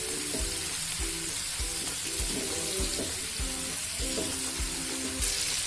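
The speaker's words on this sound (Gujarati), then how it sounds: "એકદમ સરસ પાલક પણ આપણે ચડવા દેશું" Spinach cooking in a pan, a dense continuous hiss and crackle with regular soft low thumps throughout, close and loud, no voices.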